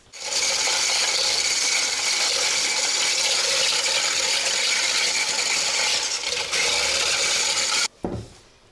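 Dough being whisked in a bowl in a village kitchen, a loud steady raspy whirring that runs unbroken for several seconds, then cuts off abruptly, with no talking.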